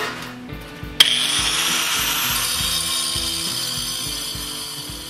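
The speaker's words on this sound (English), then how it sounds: "I'd just take my 4-inch grinder and I'm just gonna cut some of this off" A 4-inch angle grinder bites into metal pipe on a mower engine swap, starting with a sharp onset and then holding a steady, loud, high whine with a faint rhythmic clatter underneath, no talking.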